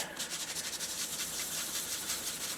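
A Scotch-Brite pad scuffs the edges of a tappet from a Willys L or F 134 engine, making soft, quick, close-up rubbing strokes that continue in an even rhythm.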